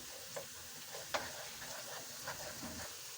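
Green chillies and garlic cloves frying with onion in a pan, a soft continuous sizzle broken by a few light stirring scrapes and taps.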